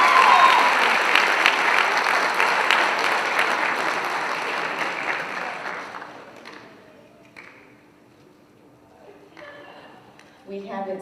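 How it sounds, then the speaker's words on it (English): Audience applause at a high school event fills the first six seconds, dense and loud, then fades to a quiet room with a few taps and murmurs. "Let's give her another round of applause."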